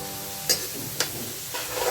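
Green chili being stirred and fried in a pan for Mumbai street-style pav bhaji: a steady, soft sizzle and hiss with two sharp scraping stirs close by, no one speaking.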